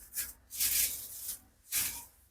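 Dry-roasted curry leaves, cooled on a plate, rustle and rattle in three brisk, crisp scraping bursts, close by and fairly quiet, with no voices.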